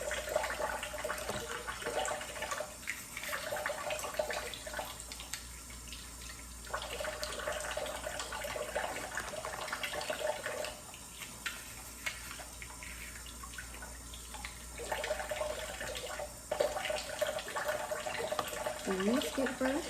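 Running tap water splashes steadily while artificial nail tips are rinsed at a sink, a continuous watery hiss lasting throughout with slight swells and dips, close and moderately loud, with faint background sounds but no clear talk.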